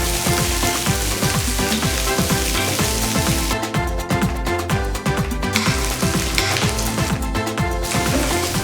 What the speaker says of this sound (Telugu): మిగిలిన ఉల్లిపాయలను అలాగే ఉంచి కట్ చేసి పెట్టుకున్న పచ్చిమిర్చి ముక్కల్ని కూడా వేసి వేగనివ్వాలి.